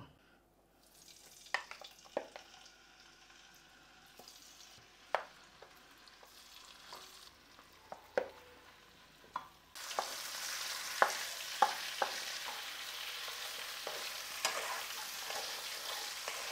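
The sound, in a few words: chicken pieces frying in a pan for kaju chicken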